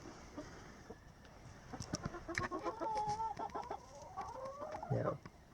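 Black sex link hens cluck and murmur close by in a farm yard, a scatter of short soft clucks and a few louder squawks over a quiet background.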